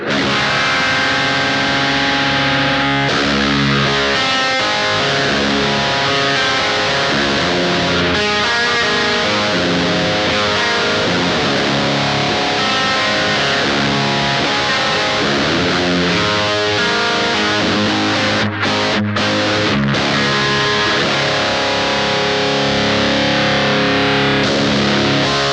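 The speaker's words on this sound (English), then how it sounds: "Let's hear how it sounds when we start to boost the treble." Electric Love Aquatone effects pedal with its treble boosted, a bright, distorted guitar tone played continuously for the whole stretch, loud and close with no talking.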